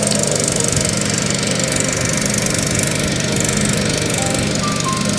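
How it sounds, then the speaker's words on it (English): A push mower and a zero-turn mower mowing grass, a loud steady engine drone with rough vibration, continuous and close, with no talk. "So I am working on the push mower while the wife is out here living life on the zero turn."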